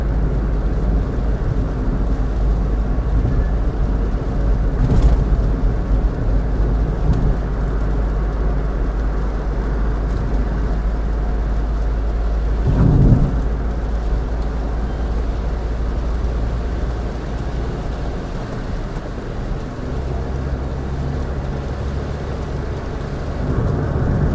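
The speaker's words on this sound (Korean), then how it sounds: "비가 와요." Steady rain and road rumble surround a small manual Kia Morning light car during a drive back from a gas station, with a faint distant thunder swell midway and no talking.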